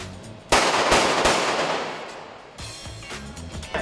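Several sharp gunshots ring out in quick succession on a film set, each followed by a long echoing decay, with background music beneath.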